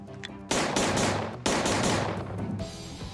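A Scorpion machine gun fires in two loud, close bursts of rapid automatic shots, each cutting off sharply, with a ringing decay after the second and no speech.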